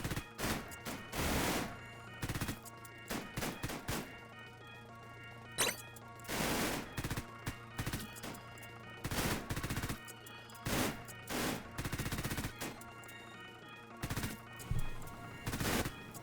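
Rapid bursts of gunfire from a big minigun enemy in the Roblox game The Classic, loud repeated volleys with short gaps, crashing impacts scattered between them over a steady game music bed.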